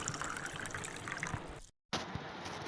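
Chopped pointed gourd pieces are rinsed in water, giving a steady splashing trickle that breaks off into a short silence and then resumes.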